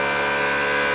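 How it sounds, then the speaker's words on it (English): A CalmDo vacuum sealer pump runs steadily, drawing the air out of a food bag with a continuous, fairly loud motor hum and no talking. "it's just sucking all the air out of there"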